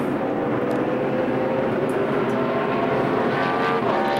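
Martin Truex Jr.'s No. 1 NASCAR stock car at a Homestead-Miami race, a steady broadband engine roar holding loud throughout without a break, with more cars droning in the background and no talk over it.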